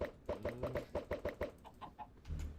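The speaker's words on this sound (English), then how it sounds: "I'm gonna just put some more chickens in" Chickens cluck in the Minecraft video game, a quick rhythmic run of about eight short, fairly faint clucks, followed by a few softer calls and a low thump at the end.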